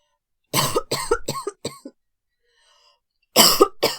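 Several sharp coughs in a quick burst, close and loud, then a pause before two more coughs.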